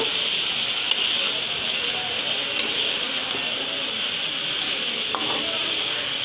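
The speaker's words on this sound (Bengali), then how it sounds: "সেই মশলাটাও এখানে দিয়ে ভালোভাবে নেড়ে চেড়ে ঢাকনা ছাড়াই আমি এটা কিছুক্ষণ নাড়াচাড়া দিয়ে মিশিয়ে নেব" Maggi noodles with their spice mix stirred uncovered in a pan, a continuous soft sizzle and hiss with faint occasional scrapes.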